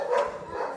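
Dog gives a single short bark close by, followed by a faint softer yelp, over a light room background.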